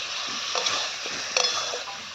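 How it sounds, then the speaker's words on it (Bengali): Potatoes being stirred with turmeric powder in a frying pan, a soft continuous sizzle with light scraping strokes, close and steady throughout. "আমি হলুদ গুঁড়োটা আলুর সাথে মাখিয়ে নিলাম।"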